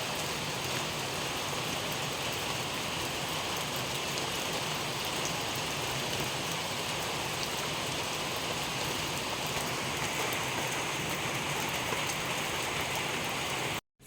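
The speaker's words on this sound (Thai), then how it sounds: "ข้างนอกสว่างแล้วนะคะ แต่ว่าฝนตก" Steady rain pours outside a home at daybreak, a dense, even hiss of drops on surfaces that continues unbroken and fairly loud, then cuts off abruptly at the very end.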